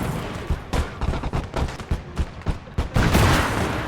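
Rapid gunfire from a machine gun alongside a 4.7-inch gun in a Fall of France battle video game, a dense run of sharp repeated shots building to a heavier sustained burst near the end.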